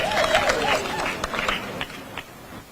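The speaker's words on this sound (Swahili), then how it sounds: "Wapi makofi ya Baba Raila Amolo Odinga?" A crowd claps and cheers at a Raila Odinga rally at Nyayo Stadium for people living with disability. The broadband applause starts loud with a voice over it, then thins to scattered claps.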